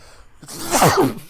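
One person sneezes once, close and loud, with a sharp breathy burst after a short quiet intake.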